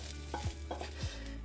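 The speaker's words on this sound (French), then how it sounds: "Une fois que vos lardons sont bien revenus et bien grillés" Bacon lardons sizzling in a frying pan while being stirred, with a steady low sizzle and a few soft scraping strokes of the utensil, quiet and close.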